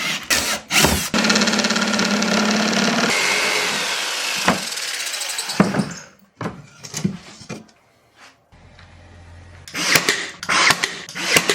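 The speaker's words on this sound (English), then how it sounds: "We're gonna do a little, we'll jigsaw that out." A jigsaw cuts through plywood in a loud, buzzing run of a few seconds. Short bursts of handling noise follow, then quiet, then more cutting and clatter near the end.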